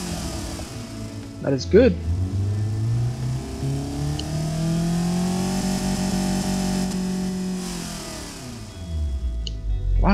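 A tuned 1977 Pontiac Iron Duke four-cylinder engine, cranking and catching, then idling steadily with revving swells, loud and close, while someone talks briefly over it.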